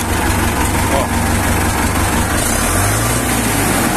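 A Valmet 785 tractor's rebuilt engine idles with a steady low rumble, close and fairly loud, with a slight shift in tone partway through.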